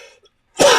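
A single close, loud cough with throat clearing bursts out after some faint preceding sounds and a moment of silence, set indoors during a late-night astronomy imaging session.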